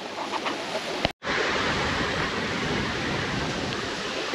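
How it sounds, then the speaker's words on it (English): Water flows steadily along a ditch, a broad rushing wash that continues without a break apart from a brief dropout near the start. "That water is moving."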